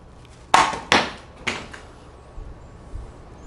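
A hammer strikes Lifeproof luxury vinyl plank flooring indoors: three sharp, hard knocks in quick succession, then a few softer taps trailing off against a quiet room.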